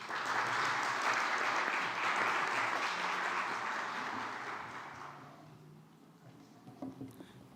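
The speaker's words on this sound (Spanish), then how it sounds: "Recibámosla, por favor, con un fuerte aplauso." An audience applauds warmly to welcome a book's author at a presentation in a state congress, steady clapping that fades away over several seconds before a few faint sounds near the end.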